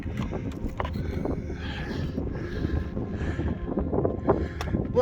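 Wind blowing across the summit of Beinn Dubhchraig, a Scottish mountain near Tyndrum, a steady rushing breeze buffeting the microphone with low rumble, loud and continuous with no talk.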